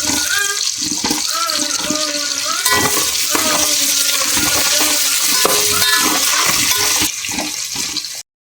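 Mutton biryani masala with mint and coriander is stirred and fried in a pan, giving a steady, loud, continuous sizzle and scraping that keeps going until it cuts off at the end.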